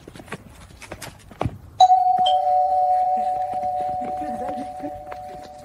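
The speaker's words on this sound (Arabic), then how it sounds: "نيجي نشوف مين يقدر يرن جرس الباب ويجري" A doorbell in an AI-generated Sora 2 scene chimes once, loud and close, its tone ringing on and slowly fading after a few footsteps and light knocks.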